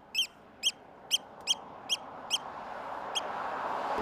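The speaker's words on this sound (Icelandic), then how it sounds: "Vesturlandsvegar tjaldurinn er hvellur í röddu þegar hann kallar á unga sína." A Eurasian oystercatcher gives a series of about seven sharp, piercing piping calls at a steady pace, each short and ringing, over a low background rumble that swells toward the end.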